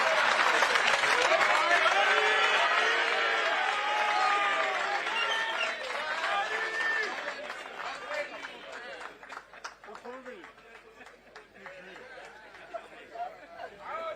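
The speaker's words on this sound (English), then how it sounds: "Another round of applause for the head of state." Applause from a crowd at an official event marking the handover of the Mopani mine to the head of state, loud and sustained at first with chatter and voices, then thinning into scattered claps under crowd noise.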